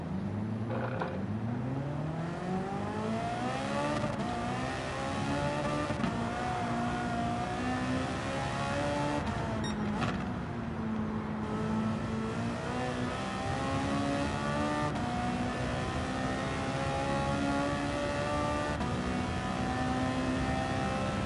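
A race car in the video game Gran Turismo 7 revs hard and climbs through the gears, its engine note sweeping upward again and again in a steady, loud drone with no voices over it.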